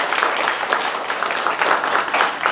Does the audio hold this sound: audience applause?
yes